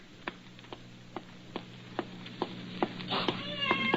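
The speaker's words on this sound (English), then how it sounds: "Help me get this cat out of the building." A cat in a hospital building meows repeatedly in evenly spaced, moderately loud calls that grow more insistent and overlap toward the end.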